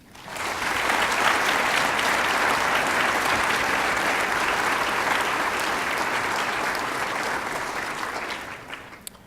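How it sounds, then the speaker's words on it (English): A school design studio showcase audience claps for the students in a sustained burst of applause, rising quickly, holding steady and loud for several seconds, then tapering off near the end. "please join me in a round of applause for them"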